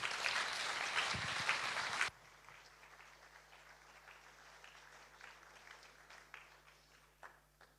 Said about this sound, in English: So please, a big round of applause for Hughes.